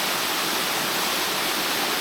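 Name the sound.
Middle Black Clough waterfall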